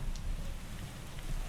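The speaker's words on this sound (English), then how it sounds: "Well, it's raining." Rain falling in the Minecraft video game as a storm brews: a steady, close patter of drops that fills the whole short stretch, with no voices.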